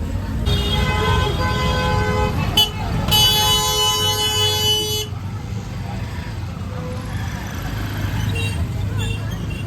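Horns toot and blare through heavy road traffic near the Chotila Chamunda temple, with one long sustained honk standing out over a constant rumble of passing vehicles and people talking.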